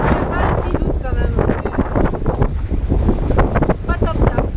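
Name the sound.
cool wind on an electric catamaran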